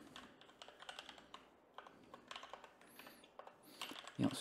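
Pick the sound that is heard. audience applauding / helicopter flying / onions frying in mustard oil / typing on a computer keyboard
typing on a computer keyboard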